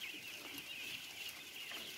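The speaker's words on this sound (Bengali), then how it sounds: "2500 হাঁস।" Ducks on a duck farm of about 2,500 eighteen-day-old birds, giving a dense, continuous chorus of quacking and clucking calls throughout, steady and fairly faint, with no talk.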